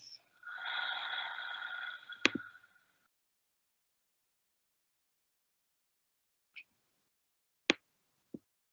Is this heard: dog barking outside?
no